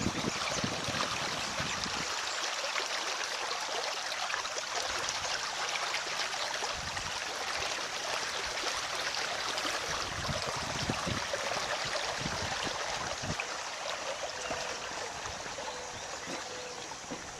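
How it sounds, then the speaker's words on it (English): Storm water runoff pours out of a pipe under an asphalt road cut and runs down a slope, a steady, loud rushing and splashing that continues without a break. "Here's the water coming out of the pipe."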